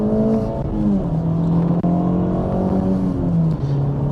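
A 2023 Acura Integra Type S accelerates under a loud, steady engine drone from inside the cabin, with the pitch rising and then dropping at gear changes. Nobody talks.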